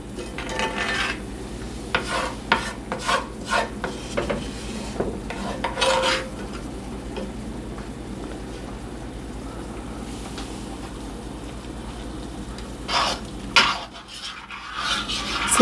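Lentil stew being scooped and stirred in a pot, with scattered clinks and scrapes of a utensil against the pot over a low steady simmer, busier at the start and near the end.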